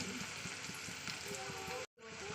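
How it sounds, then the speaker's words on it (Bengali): Spices with ginger-garlic paste, green chilli, turmeric and salt sizzle and fry steadily in hot oil in a pan, a soft continuous crackle with faint scraping, briefly cut out near the end. "ভালো করে কষিয়ে নিচ্ছে মশলার সঙ্গে তেলের সঙ্গে"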